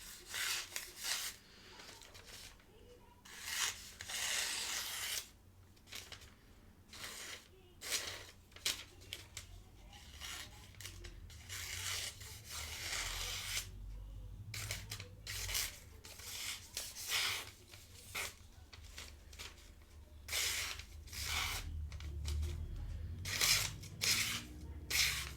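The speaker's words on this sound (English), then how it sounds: "cut some telephone book paper, see how she does against that" A USA-made folding knife slices through thin telephone book paper in repeated quick rasping strokes, close and fairly quiet, with short pauses between cuts and no talking.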